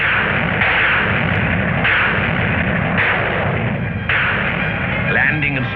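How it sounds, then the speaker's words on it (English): Archival film of the D-Day bombardment of beach defenses by destroyers, rocket batteries and guns on landing craft, a dense continuous roar of heavy firing with repeated booming surges, loud and muffled by old recording. "Destroyers and gun and rocket batteries mounted on landing craft pounded the beach defenses"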